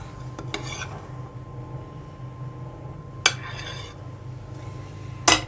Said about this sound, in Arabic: ملناش اي حاجه غير نسويها بمعلقه، معلقه عاديه خالص بتاعت الاكل